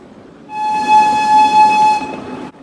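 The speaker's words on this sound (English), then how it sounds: "The train slowed down considerably as it made the figure 8 and crossed over the Elaine Bridge." A train at a steam and power show runs on a figure-8 track and crosses a bridge, giving a loud, steady horn-like whistle tone over rumbling wheel noise that rises, holds for about a second and a half, then cuts off.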